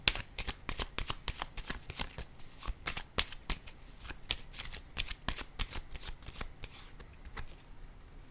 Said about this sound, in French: je vais piger une carte ici.